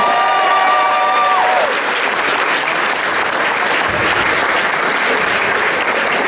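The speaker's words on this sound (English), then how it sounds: "Round of applause." An audience at a karting awards evening breaks into dense, sustained applause that fills the room, loud and continuous throughout, with a brief tonal note fading out near the start.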